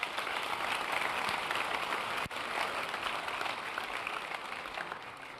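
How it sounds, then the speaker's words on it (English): An audience applauds candidates who ran for student office at Boyd State, a dense, steady wash of clapping from many hands lasting several seconds, then slowly fading. "Let's give them a round of applause."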